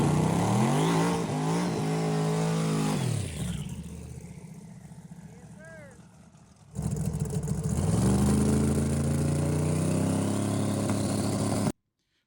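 Cleetus's 5000 hp drag car on small tires roars loudly through an eighth-mile pass, rising and falling in pitch, dropping toward the middle and then surging back to full volume before it stops abruptly.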